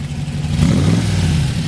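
A 1966 Shelby GT350 fastback engine with side exhaust revs up, its deep rumble swelling louder partway through and holding a throaty, close-up growl.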